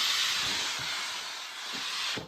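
A Karcher steam cleaner blasts steam onto a window pane with a continuous loud, close hiss, broken by faint soft knocks of the nozzle against the glass.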